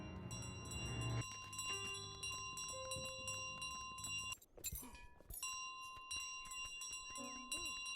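A bell jingles steadily while being carried by the goose in Untitled Goose Game, with bright sustained ringing tones over busy game music and effects, briefly interrupted by a clattering burst midway.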